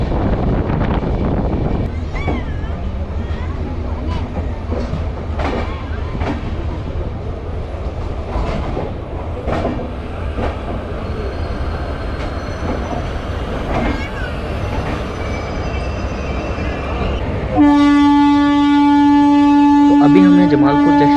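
The Vikramshila Express, a passenger train on the Kiul to Bhagalpur route, rumbles loudly along the rails with rhythmic clickety-clack and wind buffeting. A sustained tonal whine or horn joins near the end.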